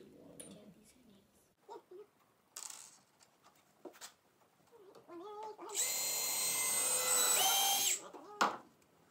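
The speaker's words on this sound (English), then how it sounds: "I'm gonna grab your drill and pre-drill it" A power drill whirs steadily for about two seconds at close range, pre-drilling wood for a squirrel feeder, preceded by scattered speech and small handling noises.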